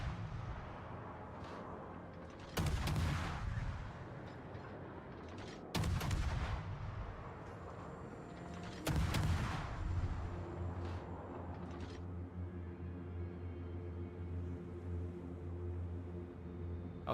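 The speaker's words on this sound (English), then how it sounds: "Gun sounds." Naval gunfire from World of Warships: three heavy cannon blasts land about three seconds apart, each a sharp broadband boom with a rumbling tail. A low engine drone runs steadily beneath them.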